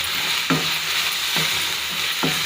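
Bottle gourd halwa with fried cashews stirred in a pan over steady sizzling, a spoon scraping through three times in an even rhythm, close and alone.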